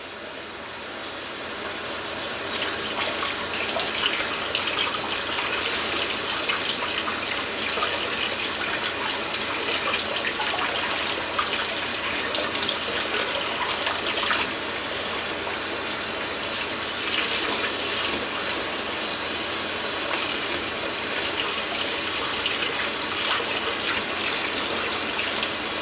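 Cold water runs from a kitchen tap in a steady, unbroken gush that starts within the first few seconds and continues loud and close for the rest of the clip.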